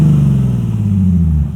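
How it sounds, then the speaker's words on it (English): A 2012 Nissan 370Z with the 3.7-liter VQ engine and a catback exhaust revs loud and close, a deep, throaty drone that holds steady and then eases off as the throttle closes. "Hear this exhaust."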